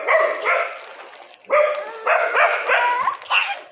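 A dog close by gives a string of high, whiny yelps and whimpering barks in uneven bursts, fairly loud, with no talking over it.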